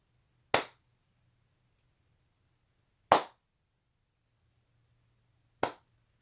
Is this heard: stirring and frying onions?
no